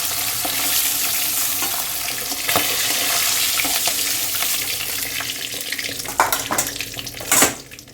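Aar fish frying in hot oil in a home kitchen, a steady close sizzle and crackle running throughout, with a few louder spits and pops of oil near the end.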